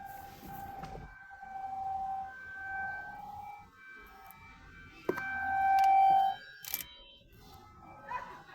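A siren wails outside with long, steady electronic tones that rise and fall in separate sustained blasts, moderately loud against a quiet background, with a few brief clicks in between.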